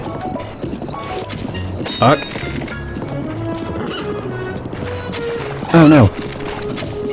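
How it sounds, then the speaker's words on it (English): A horse in Zelda: Breath of the Wild gives two short loud whinnies, the second rising and stronger, over steady game ambience and hooves, while a player talks over it. "I need to get the horse moving"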